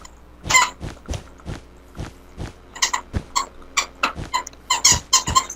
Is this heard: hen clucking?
no